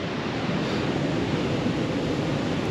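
Surf on Tasmania's wild west coast near Trial Harbour, a continuous dense roar of ocean waves with no distinct breaks, steady and fairly loud, heard without any talking.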